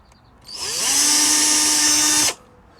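A power drill with a 2.5mm bit whirs up to speed, runs at a steady high whine for about two seconds, then stops abruptly.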